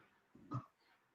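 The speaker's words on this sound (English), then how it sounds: "I hear the puppy dog." A single short, muffled puppy yelp or bark rises briefly out of near silence, faint and somewhat distant, with a soft breathy quality.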